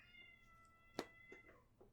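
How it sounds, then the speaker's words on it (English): At night, a cat howls with a long, strained yowl and several shorter wavering cries, heard at a moderate distance over a low background hum. "It's a cat howling in the night."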